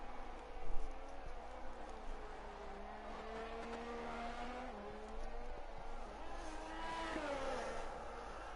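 A Haas Formula 1 car in a racing video game, a high-pitched engine whine rising and falling through gear changes and corners, steady and fairly faint, with no talk.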